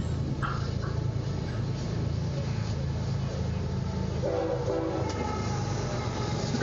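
A train rolls past with a steady low rumble and a couple of short horn blasts, heard from a distance under faint background noise and occasional voices.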